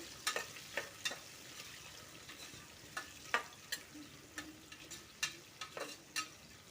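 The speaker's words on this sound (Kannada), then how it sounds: "ಈಗ ಈರುಳ್ಳಿಯನ್ನು ಎರಡು ನಿಮಿಷಗಳ ಕಾಲ ನಾನು ಫ್ರೈ ಮಾಡ್ಕೊಳ್ತೀನಿ" Sliced onions frying in a pan for vegetable green pulao, heard as a faint, steady sizzle broken by a dozen or so short, sharp clicks of a spoon stirring against the pan.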